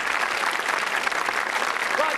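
A game show studio audience applauds, steady dense clapping heard close and continuous for a couple of seconds.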